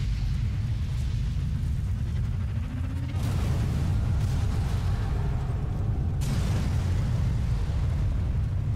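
A fuel tank explodes after a sniper shot in the Sniper Elite 3 video game. Two heavy booms ring out several seconds apart, each a sudden burst followed by a rumbling decay, over a low steady drone.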